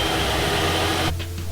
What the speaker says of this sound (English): It's a hairdryer, I think.